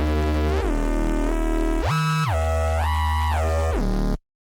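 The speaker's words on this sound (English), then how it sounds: "the essence of that sound is like saw waves phase distorted" A reese bass synth built from phase-distorted saw waves plays as thick, buzzing, sustained tones that glide between several pitches, loud and alone, before stopping abruptly.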